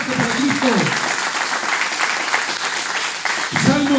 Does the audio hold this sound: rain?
no